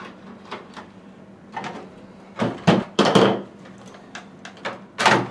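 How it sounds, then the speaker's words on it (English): A screw is unscrewed from the side of a Zodiac Baracuda MX8 pool cleaner, heard as a few close, short scraping and grinding rasps with quiet gaps between them. "start by unscrewing the one screw on this side"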